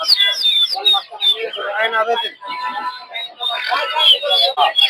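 Turkey chicks at a poultry market peep in high, rapid chirps, nearby and busy, with someone talking over them.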